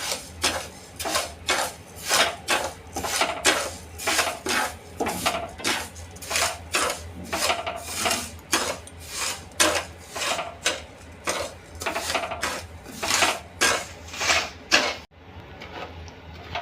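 Sugar being stirred into ghee in a pan for sesame tilachi vadi, a steady run of rhythmic metal scrapes and clinks of the spoon against the pan, close and fairly loud, with no talk.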